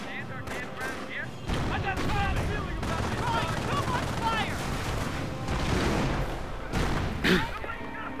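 Gunfire and explosions in a Company of Heroes battle: dense overlapping shots and booms throughout, with a sharp burst near the end, under voices and game chatter.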